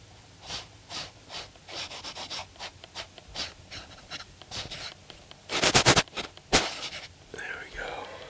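Cotton balls rubbing over the eyes during a close personal-attention care scene, heard as soft, close brushing and wiping strokes in a steady rhythm, with louder scrubbing bursts near the end and whispering throughout.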